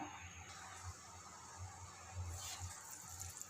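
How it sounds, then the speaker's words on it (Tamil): Water in a pot heating for prawn biryani, a steady low bubbling wash with soft gurgles, close and quiet, no voices. "தண்ணி நல்லா தலபலன்னு கொதிக்குது"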